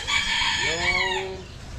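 A chicken gives a loud, drawn-out call close by, rising and then falling away, over a steady background hum.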